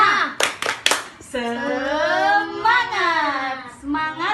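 A third-grade elementary class claps a quick rhythmic pattern of several sharp hand claps, then the children chant loudly together in unison, with the claps standing out clearly before the group voices.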